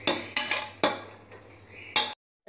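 Green peas sautéed in a pan for pea rice, with sharp metallic spoon scrapes and clinks against the pan recurring every half second or so over a steady low sizzle, close and moderately loud.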